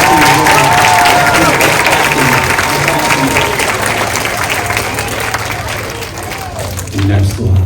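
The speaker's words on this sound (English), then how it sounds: "let's hear a round of applause for all of these classes" An audience at a school gathering applauds the classes with a loud burst of dense clapping and some cheering that gradually thins out, with voices talking over it near the end.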